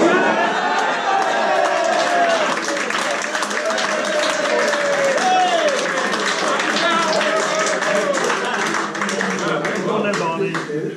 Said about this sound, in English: there was a big cheer